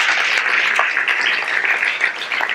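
An audience claps and applauds at a live talk, a dense, steady burst of many hands close by with no voices over it.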